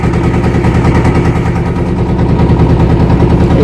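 A boat engine runs on the river near the India–Bangladesh border at Taki, a loud, close, steady rapid chugging drone with a throbbing low pulse and no pause.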